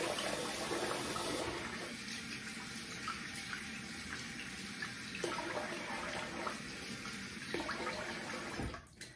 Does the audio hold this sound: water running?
yes